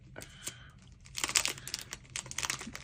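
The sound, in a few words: resealable plastic bag being unsealed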